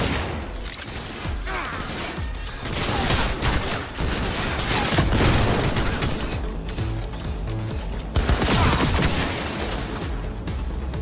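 Dense, sustained gunfire from the video game Cyberpunk 2077, with rapid overlapping shots and crashes that run loud and continuous throughout and swell in bursts.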